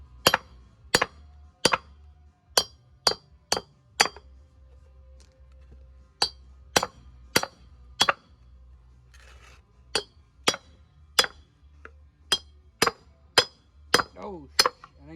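Sharp metallic hammer strikes ring out one after another as wheel studs are driven out of a 1967 Ford F250 brake drum, about twenty close, bright clanks in uneven bursts with brief pauses, alone without talk.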